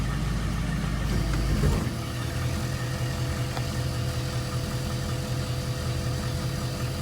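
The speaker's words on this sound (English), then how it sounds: "I am going to put the car in gear and see what the idle is like" A 1973 AMC Hornet engine idles in gear, a steady low mid-pitched rumble with a slight knocking pulse after a brief louder surge at the start, close and continuous with no voices.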